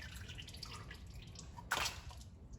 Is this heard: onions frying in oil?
no